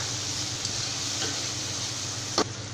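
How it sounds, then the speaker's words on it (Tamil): Spices for mint biryani being stirred in a hot pan, a steady close sizzle with a few faint scrapes and one sharper knock near the end, no voices. "இப்போ இதெல்லாம் சேர்த்துட்டு நல்லா மிக்ஸ் பண்ணிக்கலாம்."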